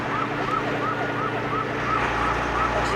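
Police car siren wailing in a steady repeating up-and-down cycle over a low traffic rumble, continuous and moderately loud throughout with no voices.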